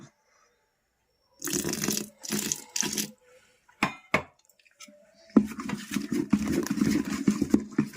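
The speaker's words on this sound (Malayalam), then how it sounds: "വെള്ളം നമ്മൾ പച്ചവെള്ളമാണ് ചേർക്കുന്നത്." Plain water poured into ground dosa batter in a home kitchen, a few short splashy pours followed by steady close stirring and sloshing of the batter.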